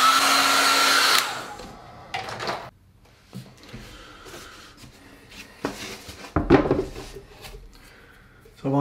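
A hair dryer blows loudly and close on a large abstract watercolour painting for about a second, then cuts off. Scattered knocks, taps and clatter from handling the paper and tools follow.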